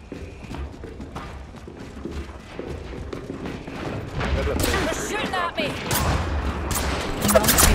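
Enemy gunfire in a shooting video game, a rattle of rapid shots and mechanical clatter that grows louder and denser toward the end, heard alongside game sound effects.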